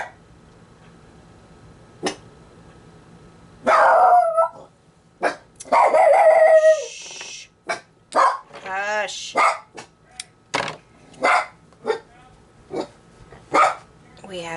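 Dogs bark at new neighbors, several loud sharp barks and yips in bursts after a quiet start, with a person speaking briefly between them.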